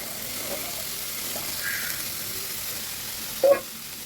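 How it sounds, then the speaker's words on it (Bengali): Soaked kabuli chickpeas frying with spices in a pan for chole, a soft, steady sizzle and hiss with faint stirring and a brief sharp clink near the end. "ছোলাগুলো দিয়ে এবার মশলার সাথে ছোলাটাকে ভালো করে একটু কষিয়ে নেব"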